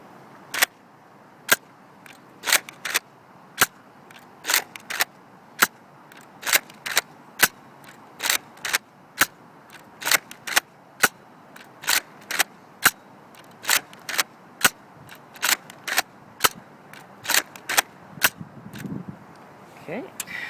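Nerf N-Strike Elite Retaliator blaster firing Streamline darts in a range test: a steady series of sharp mechanical clacks and thumps, roughly ten shots with paired priming clicks, close and distinct over quiet background.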